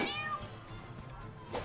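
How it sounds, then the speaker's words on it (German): A cat meows in the video game South Park: The Stick of Truth, giving one drawn-out meow followed by a short second cry, heard quietly over low game ambience. "Miau."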